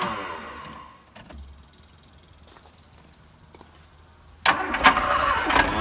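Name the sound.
Mk2 Ford Escort engine trying to start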